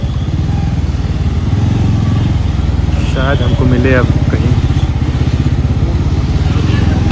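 A motorcycle runs steadily through the streets of Shimla with a loud, close, pulsing engine drone throughout, while a voice sings over it.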